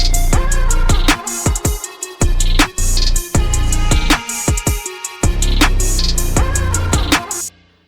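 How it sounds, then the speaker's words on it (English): Korean trap-style hip hop beat where the synth's octave and the samples shift, driven by thumping bass hits and crisp percussion in a steady loop with short gaps. "So the octave of the synth and the samples change."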